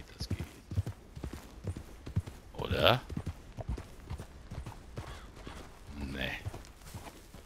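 Horse hooves clip-clop in Red Dead Redemption 2 Online in a steady walking rhythm, with a couple of louder scuffs, while a player speaks briefly over them.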